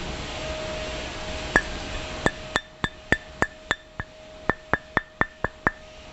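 A Yamaha Mio pulley spare part, struck repeatedly with a steel ruler, gives a dozen or so bright metallic clinks that ring briefly. They come in a fairly steady rhythm, close up, over a faint background hum.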